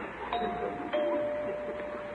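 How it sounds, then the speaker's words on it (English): An old-time radio comedy doorbell gives a two-tone ding-dong chime, fairly soft against a quiet, slightly hissy background with no talking. "why does he ring the doorbell after I left him that note?"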